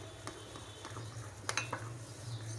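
Spoon stirring onion pakora batter in a bowl, soft scraping and a few light clinks against the sides, fairly faint over a steady low hum.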